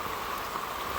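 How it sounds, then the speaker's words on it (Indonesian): Steady rain falls during a mountain hike on a trail toward a summit, a continuous even hiss of drops with no breaks and no voices. "Hujan terus membuntut kami"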